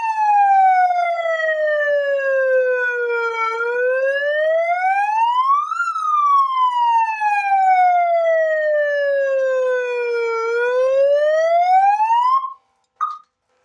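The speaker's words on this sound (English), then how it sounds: "the siren in action." A homemade outdoor warning siren wails loud and close, rising and falling in long slow sweeps for about twelve seconds before cutting off, followed by a short final chirp.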